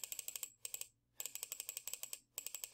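Rapid bursts of clicking from repeated presses of a computer mouse while running a central limit theorem simulator, quick sharp clicks in clustered runs separated by brief pauses, close and quiet.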